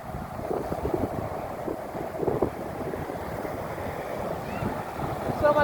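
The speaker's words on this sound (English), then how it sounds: "So much crosswind." Strong crosswind buffets an aircraft during an A380-841 landing, a steady broadband rush of wind noise on the microphone, fairly loud and unbroken throughout with no speech.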